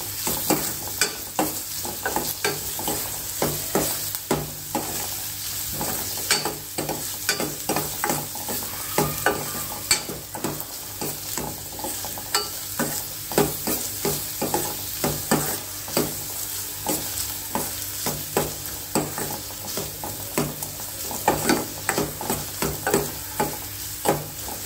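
Onions frying in a pan for a curd rasam (bisi majjige tambuli): a steady sizzle runs throughout, broken by frequent scraping stirs of a spatula, close and unaccompanied by voices.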